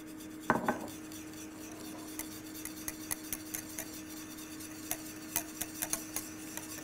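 A whisk clinks against a saucepan while cocoa is mixed into a chocolate mixture, one louder scrape followed by light, irregular metallic ticks and taps at close range.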